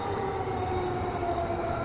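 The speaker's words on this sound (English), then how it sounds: "you can hear the tornado sirens sounding downtown right now." Tornado sirens wailing steadily across downtown Nashville during a severe storm in Davidson County, a continuous distant drone with a sustained pitch, heard alone without talk.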